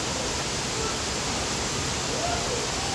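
Bukal Falls, a waterfall, pours in a steady, dense broadband roar that fills the whole stretch without pause, loud and close with no clear voices standing out.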